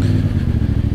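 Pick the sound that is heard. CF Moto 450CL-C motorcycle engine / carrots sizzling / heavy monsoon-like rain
CF Moto 450CL-C motorcycle engine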